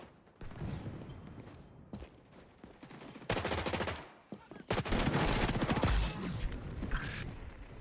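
Rapid automatic gunfire from an SMG in the online shooter XDefiant, with bursts and sustained firing and a few blasts filling the whole stretch, loud and close, with the player's voice faintly underneath at times.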